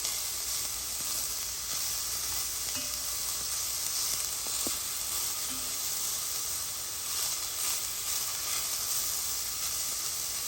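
Mushrooms and garlic sauté for a Bolognese sauce in a steady, dense frying hiss that runs throughout, close and even, with a faint click or two and no talk.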